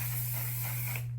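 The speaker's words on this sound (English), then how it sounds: "So I use the One Size setting spray." A short aerosol burst of e.l.f. One Size makeup setting spray, a steady close hiss lasting about a second before cutting off abruptly, with a low hum underneath.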